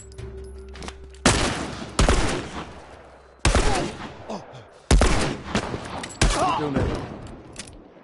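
Gunfire from The Last of Us game play rings out in about five separate loud bursts, each a sharp blast followed by a decaying rattle and tail, with a faint background underneath.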